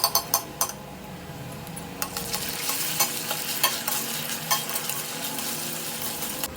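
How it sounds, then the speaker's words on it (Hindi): Onion and ginger garlic paste frying in hot oil with cumin, a steady close sizzle broken by the clinks and scrapes of a spoon stirring against the pan. "इसके बाद डाल दी प्याज और प्याज के बाद इसमें डाल दी अदरक लहसुन का पेस्ट।"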